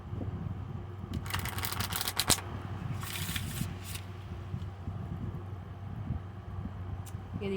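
A deck of cards is shuffled in a few quick riffling bursts, close and crisp, against a quiet low hum with no talking.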